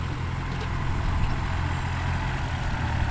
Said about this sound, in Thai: ให้รถไถปูทางครับ